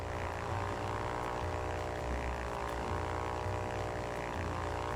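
A propeller plane flies in the video game Ultrawings, giving a steady droning engine hum with a low rhythmic pulsing beneath, constant and even throughout.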